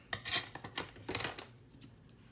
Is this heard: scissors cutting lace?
yes